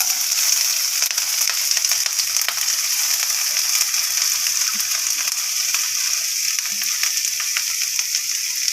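Bitter gourd, green chili and onion frying in oil with curry leaves, a steady bright sizzle held evenly throughout with faint stirring scrapes underneath.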